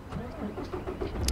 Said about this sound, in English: And we'll start the engine.